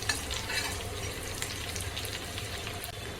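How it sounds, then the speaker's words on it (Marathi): Green chillies and garlic frying in hot oil for a festive thali, a close, steady crackling sizzle broken by spatula stirring scrapes, with no voices. "मिरची पण चांगली तेलामध्ये भाजली पाहिजे"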